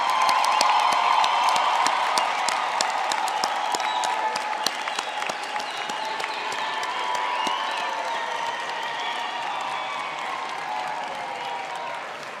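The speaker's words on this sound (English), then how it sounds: "give our graduates another hand of applause for a wonderful achievement." Sustained applause from a large graduation audience, dense steady clapping that gradually thins slightly toward the end.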